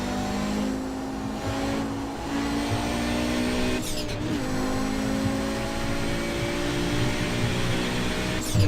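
An Audi 90 Quattro GTO race car in iRacing, its engine droning steadily and loud throughout, with shifts and a brief dip around the middle before pulling hard again.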